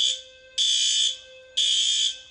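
Fire alarm in an apartment complex sounding in loud, steady electronic tones, three long pulses separated by short gaps, with nothing else audible.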